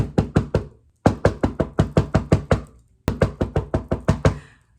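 A voice mimics knocking on a door with loud, close knocks in three rapid bursts of four to seven blows each, separated by short pauses.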